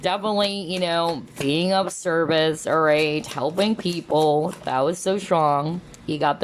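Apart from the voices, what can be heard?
No everyday noises stand out.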